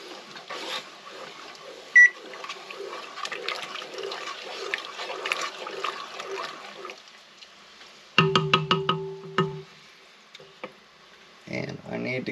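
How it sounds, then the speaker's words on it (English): A kitchen timer chirps in a quick run of short beeps as it is set for a minute during elderberry jam making, following talking and soft kitchen noise, with a further burst of clatter afterward. "I'm gonna set this timer again for another minute."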